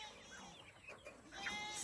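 Chickens cluck softly in a new chicken coop on a farm, with scattered faint clucks and calls over quiet background, no talking.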